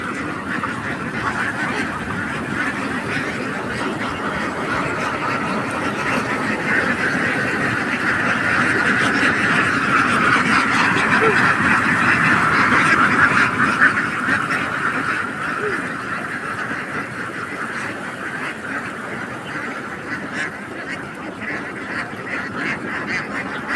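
A large flock of ducks quacks and honks continuously while feeding in a field, a dense overlapping chorus that swells in the middle, with no clear talk.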